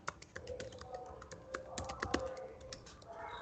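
Someone types a search query on a computer keyboard, producing a quick, uneven run of light key taps close by, fairly quiet against faint room hum, with no talking.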